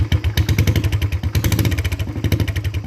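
A Royal Enfield Bullet motorcycle exhaust fitted with a wrapped silencer thumps close by in a fast, steady pulsing beat with deep, loud bass.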